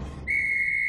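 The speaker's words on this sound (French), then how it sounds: "Par ici, le sifflet du sous-brigadier." A police sergeant's whistle in a French Casper cartoon gives one sharp, sustained, shrill blast that starts abruptly and stays loud and close to the end.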